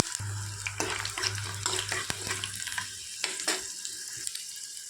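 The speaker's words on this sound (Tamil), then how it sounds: "உரிச்சு வச்சு இந்த பூண்டை இதுலேயே போட்டுக்கலாம் பூண்டு நல்லா கொஞ்சம் செவந்து வரட்டும்" Garlic, curry leaves and green chili fry in a pan for an eggplant tamarind curry, giving a steady close sizzle with repeated stirring scrapes and taps.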